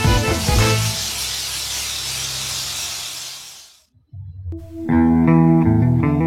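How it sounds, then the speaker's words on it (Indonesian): A steam cleaner blasts a loud continuous hiss of steam for several seconds inside a Pajero Sport's cabin, cuts off abruptly, then a humming machine tone takes over. "uap panas ini juga dapat mensterilkan kabin mobil."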